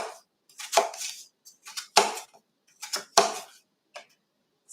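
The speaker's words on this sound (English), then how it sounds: "just keep your fingers out there and go down and slice it" A knife slices through apples for apple crisp on a cutting board, a series of crisp cutting strokes, about six distinct thuds with short scraping tails, close and clear with quiet gaps between.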